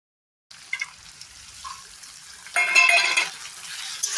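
Goat meat with spices and ginger paste fries in oil in a pan, starting after a brief silence as a soft crackling sizzle that swells into a louder, busier spitting fry partway through.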